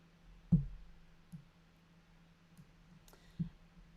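A single computer mouse click sounds at about half a second in a quiet room, with a few faint, softer ticks after it and no voices.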